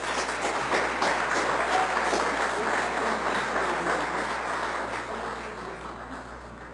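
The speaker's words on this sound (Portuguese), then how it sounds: "Gostaria que os senhores recebessem a estudante com uma salva de palmas." Applause for a student at a municipal council session, a room of people clapping steadily at moderate volume, gradually tapering off toward the end.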